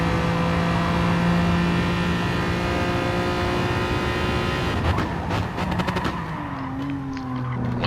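A Hyundai Genesis race car in a racing game at the Nurburgring GP holds a loud, steady engine drone, then shifts, with rapid crackling and a falling then rising pitch as it brakes and accelerates again.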